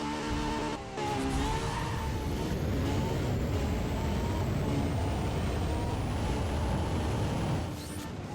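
A race car in the Need for Speed: World video game launches perfectly at the start of an X-Class event on Palmont Summit, its engine roaring loud and steady throughout after a brief dip near the start.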